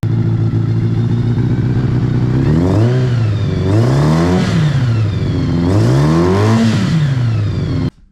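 A Kawasaki ZR7 motorcycle engine idling loud and close, then revved in three rising and falling surges before cutting off abruptly.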